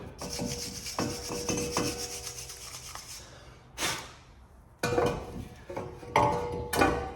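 Scrubbing and rubbing inside a Vauxhall Insignia front brake caliper, close and steady at first, then after a pause several louder rasping bursts of brushing against metal.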